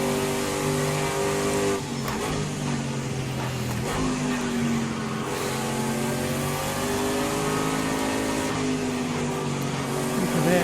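Prototype-class race car engine from Project CARS 2, revving steadily and loud throughout with pitch dropping and climbing through rough, uneven gear changes, no talk over it.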